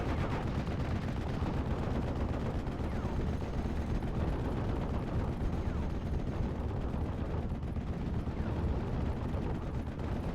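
An off-map heavy artillery barrage in the World War II strategy game Steel Division rolls on as a continuous, loud, dense rumble of overlapping blasts, with no talking.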